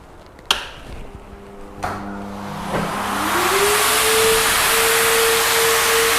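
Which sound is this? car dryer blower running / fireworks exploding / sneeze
car dryer blower running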